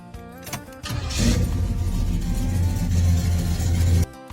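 A Chevrolet Chevelle SS muscle car engine fires up and settles into a loud, steady rumbling idle for a few seconds, then cuts off abruptly.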